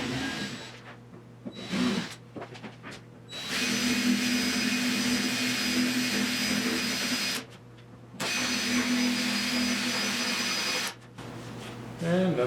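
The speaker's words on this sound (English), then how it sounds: "I have to clean up those holes there" A power tool cleans up drilled holes in the steel body of a 1972 Triumph GT6, whirring loudly in several bursts separated by short pauses, with a person speaking during the quieter gaps.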